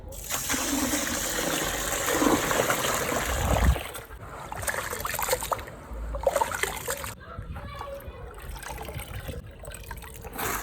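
Grains are washed in water by hand while making pap, with continuous splashing and sloshing that comes close and loud, then eases into softer trickles and dribbles.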